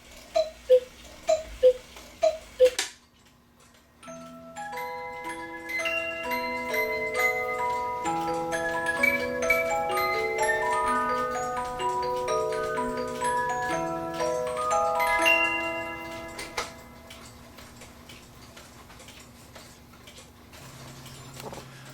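A vintage Oompah band and dancer cuckoo clock plays: a few sharp ticks and cuckoo calls, then a long, bright music-box style melody of layered tones that fades out, with steady ticking underneath.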